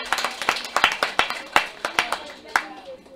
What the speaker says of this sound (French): Applaudissez plus fort, toujours plus fort, plus fort.